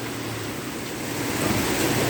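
Heavy rain pours onto a flooded road in Pak Chong, making a dense, steady hiss that swells a little toward the end, with no voices.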